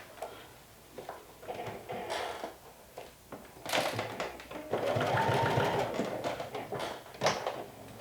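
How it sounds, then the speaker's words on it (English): A sewing machine stitching a Sinclair Alba garment in bursts, quiet handling and fabric rustles between runs, then a longer steady mechanical whir near the end, close by with no talking. "I remove the pins as I sew."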